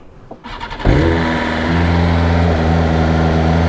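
A BMW M1000RR motorcycle engine cranks briefly, then fires and settles into a loud, steady, close idle with a strong humming drone that holds to the end.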